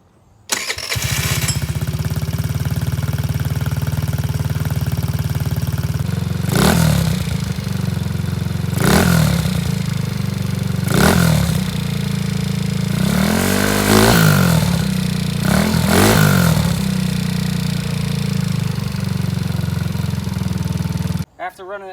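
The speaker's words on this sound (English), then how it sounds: "Now you want to start her up and let that new fluid move around for a minute." A 50cc scooter engine, just given fresh oil and a new spark plug, starts and settles into a steady, loud idle, with a few revving blips and a voice talking over it.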